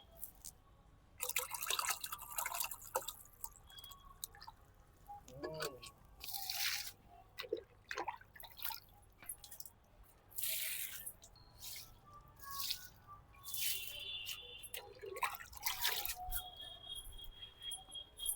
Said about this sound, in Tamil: நம்ம இந்த செடிக்கு இந்த தண்ணி எடுத்துன்னு வந்துருக்குற இந்த தண்ணி கலந்து ஊற்றிட்டு கொஞ்சம் கொஞ்சமாக ஊற்றிட்டு